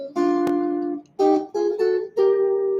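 Guitar sounding a short phrase of thirds intervals, four ringing two-note shapes played one after another, close and clean with brief pauses between them.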